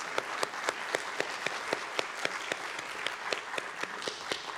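Applause from a convention stage audience, a steady wash of clapping with a few sharp individual claps standing out, moderately loud and continuous throughout.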